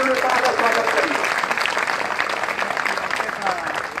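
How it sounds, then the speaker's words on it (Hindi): Crowd at a political rally applauding to welcome two political leaders, loud sustained clapping from many people with a voice talking over it at the start. "जोरदार ताली बजा के दोनों नेताओं का स्वागत करिए"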